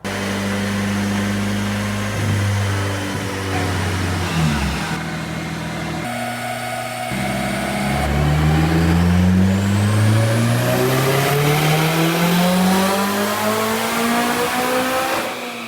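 A turbocharged K24 engine swapped into a Nissan A31 Cefiro runs on a dyno, droning loud and steady, then revving up in a long rising pull with a climbing turbo whine, heard up close with no talk.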